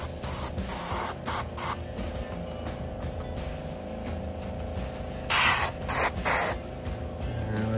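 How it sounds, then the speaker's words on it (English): An airbrush sprays bare air, no paint, over a custom McFarlane action figure, hissing in repeated short bursts of varying length over a steady background hum. "And we're just hitting it with the air, no paint,"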